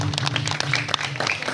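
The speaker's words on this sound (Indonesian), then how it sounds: "tepuk tangan untuk kita semuanya. tepuk tangan." Audience applause at an Indonesian mosque gathering, a steady wash of clapping hands over a low hum, moderately loud and continuous for a short stretch.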